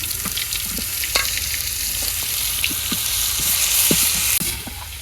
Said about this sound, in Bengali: মাছটা ভাজা হয়ে গেছে, আর টমেটো ভেজে এলাম ভর্তা করবো।